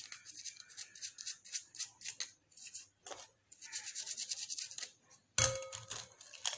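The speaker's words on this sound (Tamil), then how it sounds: "இப்போ யூஸ் பண்ணாத பழைய டூத் ப்ரஷ் எடுத்து நல்லா இதில் அந்த அழுக்கு எல்லாத்தையுமே வந்து நல்லா தேய்ச்சி விட்டுக்கோங்க" An old toothbrush scrubbing dirty covering jewellery, heard as quiet, close, repeated brisk bristle strokes in short rhythmic bursts, with a brief pause and a small clink near the end.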